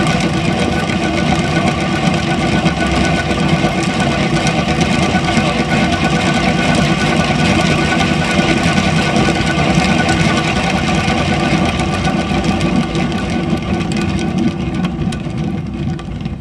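An acrylic pour tile is spun on a motorized spinner, giving a steady, loud mechanical whirring hum that holds evenly throughout without pause.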